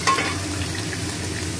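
Green peas tipped into hot oil over a well-fried masala. A short burst at the start settles into a continuous close sizzle and crackle.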